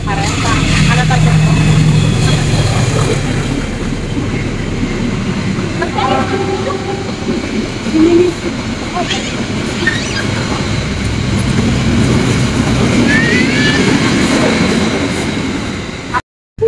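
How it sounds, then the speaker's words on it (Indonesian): Train rolling past at close range in a Sundanese setting, a steady loud rumble and rattle of wheels running for the whole stretch, with a brief squeal partway through and people talking faintly beneath it. "ini ya lihat kereta"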